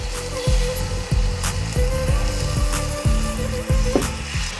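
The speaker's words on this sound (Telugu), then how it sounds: "Okay, pan వేడెక్కిందండి. ఇప్పుడు మనం బ్యాటర్ ని వేసుకోవాలి." Rava dosa batter poured onto a hot pan gives a loud, continuous sizzle, broken by repeated sharp scraping knocks that fall at regular intervals, with no talking over it.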